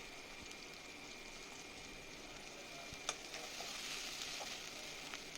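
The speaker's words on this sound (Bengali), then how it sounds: "দিয়ে এটাকে আমি একটু ভালো করে এখন কষিয়ে নিচ্ছি" Ginger paste and chopped tomato sauté in a pan, giving a soft, steady sizzle and hiss throughout, with a few faint clinks of a stirring utensil partway through.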